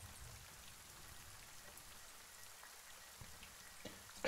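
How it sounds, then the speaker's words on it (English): Rain falls steadily in a soft, continuous hiss and patter, very faint and even, used as ambience in a tabletop roleplaying game session at sea. No clear thunder rumble stands out. "Listen to the rain, the thunder in the distance."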